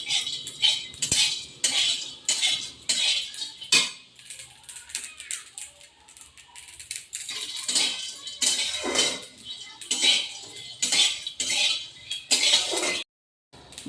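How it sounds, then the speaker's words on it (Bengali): Peanuts warming in a dry pan for a rohu fish dish rattle and clink against the metal as they are stirred. The bursts are close, fairly loud and irregular, with a brief silence near the end. "বাদামগুলো দিয়ে দেবো, একটু গরম করে নেবো।"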